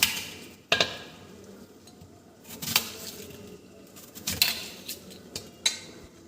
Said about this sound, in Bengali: এবার এটাকে পিস পিস করে কেটে নেব